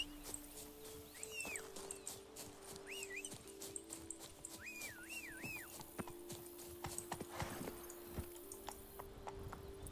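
Rhythmic hoofbeats of Roach, the horse ridden in The Witcher 3, with steady clip-clop running throughout, several whinny-like calls over the top, and a low ambient drone beneath.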